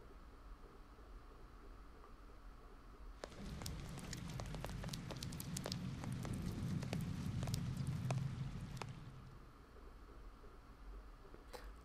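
Steady rain effects in the video game Heavy Rain, a dense patter with many sharp droplet ticks that swells in for several seconds over quiet ambience, then fades back down, heard alone without talk.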